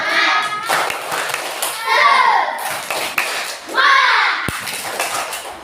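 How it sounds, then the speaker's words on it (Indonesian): Schoolchildren in an Indonesian classroom chant and clap a rhythmic spirit-clap routine together, loud and close, with bursts of young voices between the hand claps. "tepuk semangat dulu anak-anak"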